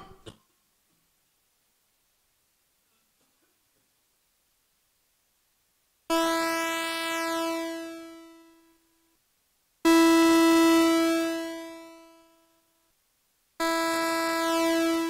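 Three separate square-wave synth notes from a Nord Micro Modular with pulse width modulation, each one loud and buzzy with sweeping harmonics, then fading out before the next starts, with no other sound.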